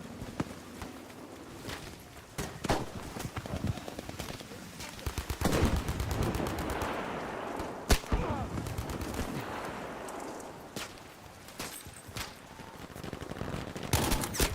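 Battlefield V combat with sniper shots and other gunfire cracking at irregular intervals, mixed with footsteps and battlefield noise. The mix swells in the middle and has sharp isolated reports near the end.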